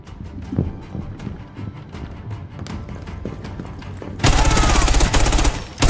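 Sharp bursts of game gunfire crack in a rapid, uneven series, then a loud dense blast of firing and explosion noise takes over near the end.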